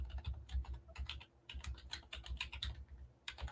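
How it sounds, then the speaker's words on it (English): Quick, close keystrokes on a computer keyboard come in an uneven run of light taps with a few brief pauses, with no talking. "Let me type it."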